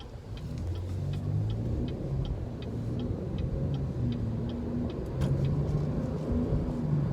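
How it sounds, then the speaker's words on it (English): 2019 Chevrolet Blazer V6 engine while driving on a road, a quiet low engine hum and road rumble heard from inside the cabin, with a faint regular ticking like a turn signal. "So immediately you hear that V6."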